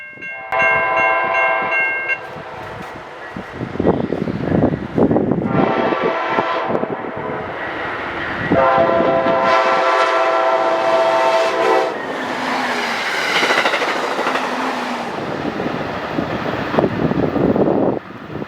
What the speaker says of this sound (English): the ALC-42 Qualification train returned from Batavia.